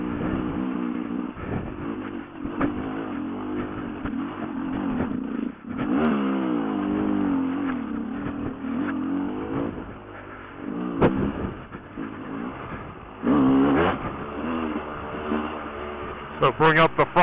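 Dirt bike engine revving and surging on a rocky trail while the rider goes up and over a log, the motor loud and close throughout with brief throttle bursts and clattering over rough ground.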